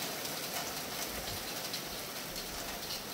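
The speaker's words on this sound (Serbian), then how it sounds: "kiša pada" Rain falling in a steady, faint hiss of drops on surfaces, continuous and even with no voices.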